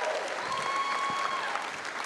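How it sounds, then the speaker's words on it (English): At an alumni event in New York, an audience applauds a performer with steady, moderately distant clapping that fills the room, and faint voices murmur underneath. "Can we give another round of applause for Lauren and that performance earlier?"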